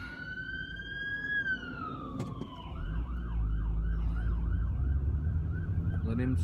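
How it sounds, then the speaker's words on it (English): An ambulance siren passes on a road, first a long rising and falling wail and then a rapid yelping warble, over the steady rumble of nearby traffic. "There's an ambulance, so we'll just wait."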